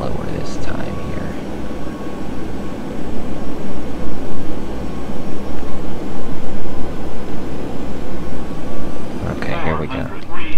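Simulated airliner engines drone steadily through a landing approach at Courchevel airport in a flight simulator game, a loud, rumbling hum with swelling and dipping thrust, while someone talks over it throughout.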